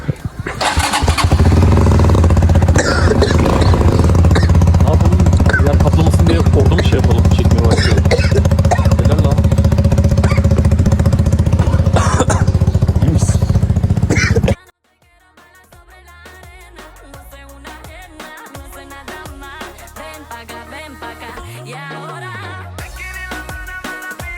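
A motorcycle engine catches and runs loud and close with a steady throaty drone, then cuts off abruptly partway through, leaving quieter background sound and voices.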